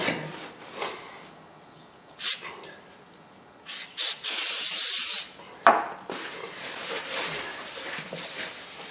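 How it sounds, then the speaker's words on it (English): Short hissing bursts of aerosol brake cleaner on a Lexus/Toyota brake rotor, one long sustained spray in the middle, mixed with rubbing and wiping noises at close range. "Just spray it on and wipe it off"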